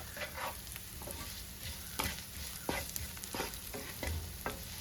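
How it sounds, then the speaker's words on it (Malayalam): Onions with salt stirred and sautéed in a hot pan, a steady sizzle and frying hiss broken by repeated scraping strokes of the spoon, close and continuous without talk. "ഉപ്പ് ഇട്ട് നന്നായിട്ട് ഇളക്കുക"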